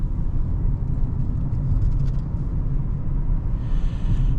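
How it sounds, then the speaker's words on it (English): A 2026 Audi A6 S Line V6 engine gives a low, steady, subdued drone inside the cabin while driving, blended with road rumble. "Now, the V6 is nice and quiet,"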